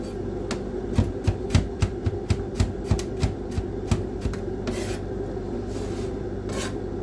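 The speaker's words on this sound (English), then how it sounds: "we're going to dice our garlic and onion as small as we can" A knife dicing garlic and onion on a wooden chopping board, a run of brisk, evenly spaced taps close by that slows and fades into softer scraping.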